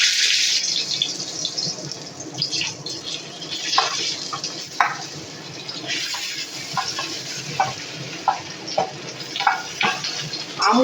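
Green mango pieces hiss and sizzle in hot oil with panch phoron spices, a loud continuous frying crackle broken by repeated scraping stirs and clinks of a spatula, close up, no voices.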